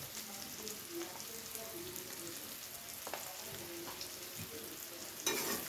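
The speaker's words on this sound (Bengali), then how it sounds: "সমস্ত মশলাকে চিংড়ি মাছ ও পেঁয়াজের সাথে হালকা নেড়ে চেড়ে" Spices stirred with prawns and onions in a pan for lau chingri, a faint, even sizzle with occasional light scrapes and clinks of a spatula, quiet and steady, ending with a brief louder rustle.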